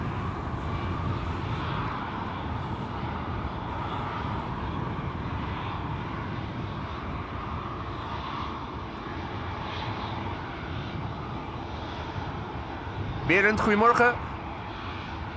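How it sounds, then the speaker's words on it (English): An Air France Bombardier C-Series 300 jet at Amsterdam Schiphol makes a steady, moderately loud engine rumble that holds throughout. A brief spoken greeting cuts in near the end. "This is Air France Flight 1341 going to Paris. Bombardier C-Series 300."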